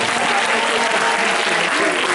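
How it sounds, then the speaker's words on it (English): Steady audience applause at a hypnotist show at a grad night event, an even, close wash of clapping throughout the short stretch. "round of applause"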